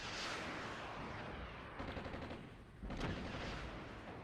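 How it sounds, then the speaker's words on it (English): Enemy artillery fire in a Cold War real-time strategy game near Lübeck, heard as a dense, continuous battle din with heavy booming bursts swelling around the middle and end, with no talk. "Enemy artillery coming around."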